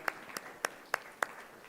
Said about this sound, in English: Let's give them a round of applause as everyone comes up.